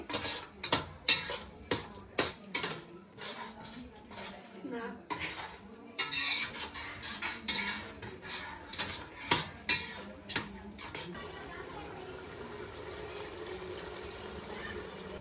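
Masala for biryani being fried and stirred in an oiled pan, with repeated sharp scrapes and clinks of a utensil against the metal for about eleven seconds, then a steady low sizzle with no talk.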